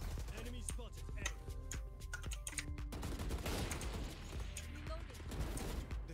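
Rapid gunfire in a Valorant match, with quick clusters of shots and clicking game effects under a player's excited talk.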